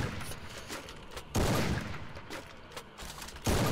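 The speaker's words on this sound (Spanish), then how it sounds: "ya me están disparando" Gunfire rattles in the Free Fire video game in quick bursts of shots, a couple of louder blasts among quieter volleys, with no voice over them.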